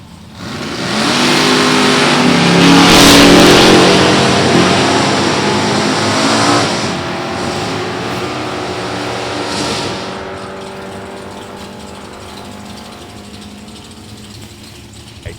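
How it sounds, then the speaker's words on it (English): A pair of Chevrolet small-block 400 cubic inch drag race cars roar down the strip at an NHRA Division 3 event at Beech Bend. A loud, sustained engine blast builds, peaks and then slowly fades as they pull away. "Chevrolet's a pair. Small blocks, a pair. 400 cubic inch engines"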